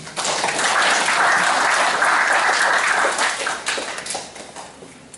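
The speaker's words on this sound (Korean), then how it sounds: "참석해 주신 내린 여러분께 다시 한번 박수 부탁드리겠습니다." An audience at a 2015 youth summer crime-prevention volunteer ceremony of the Hyeonggok 2-dong neighborhood watch in Gumi, Korea, applauds the attending guests with dense, loud clapping that swells for about four seconds and then tapers off.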